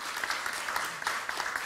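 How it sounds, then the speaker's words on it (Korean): Seated audience at a welfare policy forum claps for an honoured guest, a moderately quiet burst of applause with individual hand claps picked out within the steady patter. "한번 박수 한번 주세요"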